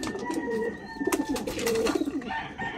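Pigeons coo in soft, repeated throaty bursts close by, with faint clicks and rustling in between.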